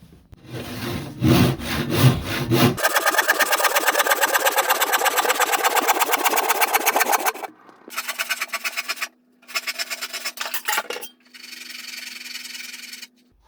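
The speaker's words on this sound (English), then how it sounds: "It's not always the easiest cutting along the grain. It's easier cutting across the grain." A hand saw cuts along the grain of well-dried wood in quick, rhythmic back-and-forth strokes, first in one long run and then in shorter bursts with pauses, over a faint steady hum.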